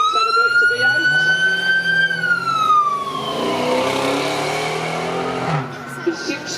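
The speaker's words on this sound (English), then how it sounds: "this is a Dodge Charger police car, and it is a genuine police car" A retired Boston Dodge Charger police car with a 5.7 litre V8 and six-speed automatic runs on a track at a supercar event, its loud engine note climbing then falling away as it passes, with a commentator talking over it.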